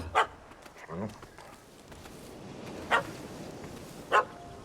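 A dog in The Witcher 3: Hearts of Stone barks in a few short, separate yaps, spaced out over a low game ambience with faint voices or noise underneath.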